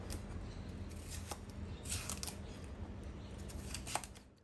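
Cucumber being diced with a knife on a board, faint quick cutting taps in an irregular series with a few sharper clicks, all heard under low kitchen background noise.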